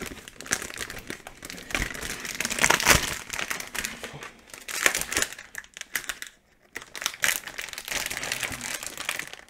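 Plastic wrappers of WWE trading card multi-packs crinkle and tear as they are opened, a close, busy run of crackling and rustling with a short quiet gap partway through.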